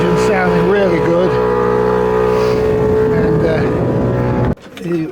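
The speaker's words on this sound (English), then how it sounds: "The engine's sounding really good." A sailing boat's inboard motor runs steadily with a loud, even drone while under way through Ramsey Sound, then cuts to quieter water and wind noise near the end.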